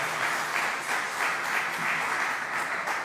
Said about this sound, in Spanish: Un aplauso para ese bombón, por favor.